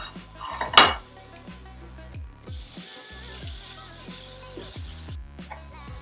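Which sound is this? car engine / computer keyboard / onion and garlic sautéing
onion and garlic sautéing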